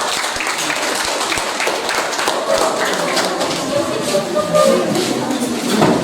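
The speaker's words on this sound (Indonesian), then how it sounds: "Oke, berikan tepuk tangan untuk kelompok." Classroom students applauding a student group after their presentation in an economics lesson, a dense steady patter of clapping throughout with some voices mixed in.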